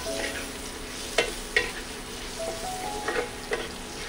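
Spoon stirring a pot of sour green mango dal seasoned with salt and turmeric, a soft continuous simmering sizzle with a few light scraping taps, moderately close and without talk.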